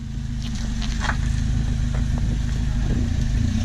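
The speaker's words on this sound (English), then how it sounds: "Jake's gonna do a donut slide." A 90 whp automatic Volvo's engine running hard through a donut slide, a loud, continuous low drone that climbs slightly and holds steady with faint tire and road noise on top.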